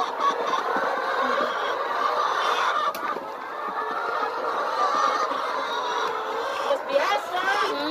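Chickens on a Bangladesh poultry farm cluck continuously in a busy, crowded background, moderately loud, with people talking among them.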